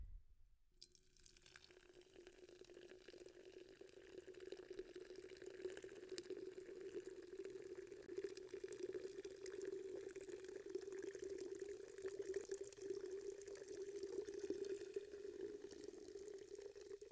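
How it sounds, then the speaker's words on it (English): Monster Orange Dreamsicle energy drink is poured into a glass in one long, quiet, continuous stream with a faint fizzing hiss, lasting about sixteen seconds with no talking. "Let's give this a pour."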